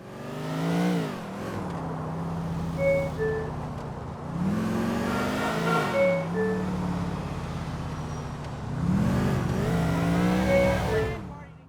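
Short two-note electronic chimes from a video game sat-nav repeat a few times over the steady drone of a revving car engine, like navigation turn alerts.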